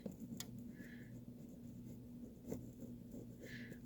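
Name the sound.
writing on a journal page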